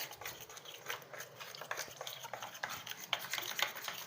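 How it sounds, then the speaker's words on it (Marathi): Khari dough ingredients are stirred and mixed together in a bowl, producing quiet, uneven scraping and soft clinks that run continuously at close range with no talking. "आता हे सगळं असं मिक्स करून घ्यायचं आहे"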